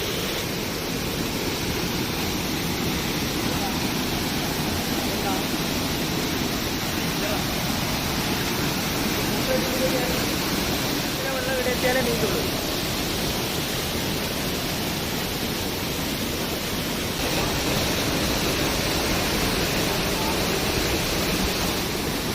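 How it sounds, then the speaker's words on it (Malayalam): A constant, dense roar of rushing water, loud and unbroken throughout, from the powerful Pathayakkund waterfall at Cheemeni, Kerala, heard from nearby. "നല്ല ശക്തമായ വെള്ളച്ചാട്ടമാണ് ഇവിടെ"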